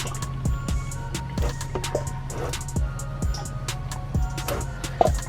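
Fluid drains out of a Cummins truck in a run of close, distinct drips and small splashes falling into a container, with a faint steady hum beneath.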